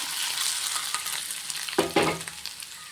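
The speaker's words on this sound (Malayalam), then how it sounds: "ഇതിന് നേരത്തെ വേവിച്ച് വെച്ചേക്കുന്ന കോവയ്ക്കയിലോട്ട് ഒഴിച്ചു കൊടുക്കാം" Tempering of hot oil and spices is poured over cooked ivy gourd for a Kerala-style thoran, giving a sudden burst of sizzling with a short stir, after a steady background hiss.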